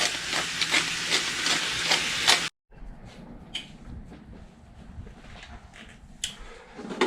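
Ground meat for a two-meat chili browns in a hot pan with a loud, steady hiss and sizzle, cut off by a brief silence and then followed by quieter, uneven sizzling with small clicks and pops.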